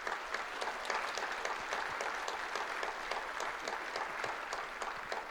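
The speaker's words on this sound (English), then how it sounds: "let's give her another round of applause." Steady applause from an audience at a university spring gala, many hands clapping continuously at an even level throughout, with no voices rising above it.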